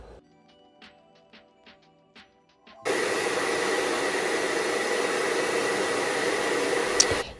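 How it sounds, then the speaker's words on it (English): A few quiet clicks and taps, then a hair dryer set inside the top of a homemade wig dryer switches on and blows with a steady, loud rushing roar until the end. "put the hair dryer inside from the top"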